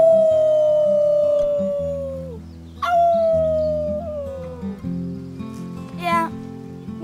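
Characters in the video game Life is Strange 2 perform a wolf-like team howl: two long, loud wavering howls that slide downward, one after another, over a soft musical background.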